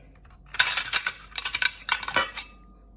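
Autumn-themed dishes are handled, giving a quick cluster of bright ceramic clinks and taps close by, several knocks in an uneven rhythm, with no talking.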